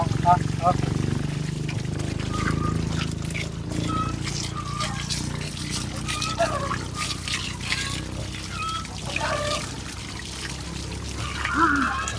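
Water pours and splashes during a bath, with trickles and irregular splatters across the whole stretch while a voice talks over it.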